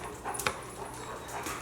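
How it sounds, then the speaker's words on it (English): Excited dogs give a few short yips and a faint whimper, off to one side and fairly quiet, over a soft room background. "I'm sorry you hear the dogs. They're excited."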